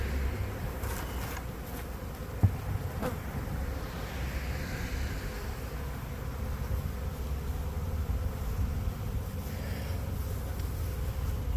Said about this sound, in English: clusters of bees that I've shook in there